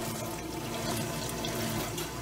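Water leaks steadily inside a Hoshizaki ice machine that is failing to make ice, producing a continuous faint trickling and splashing with no talking over it.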